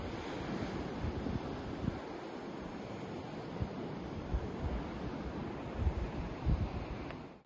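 Ocean surf roars steadily at Thor's Well on the Oregon coast, a broad continuous wash of breaking waves with gusty wind buffeting the microphone and a few heavier surges, loud and close throughout.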